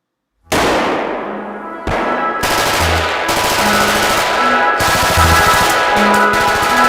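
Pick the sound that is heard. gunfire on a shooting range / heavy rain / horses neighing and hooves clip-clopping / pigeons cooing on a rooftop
gunfire on a shooting range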